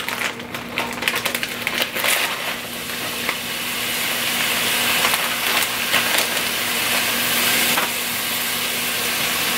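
Frozen cauliflower rice and vegetables dumped into a hot pan for cauliflower fried rice, with loud clattering and scraping at first, then a steady, crackling sizzle of frying.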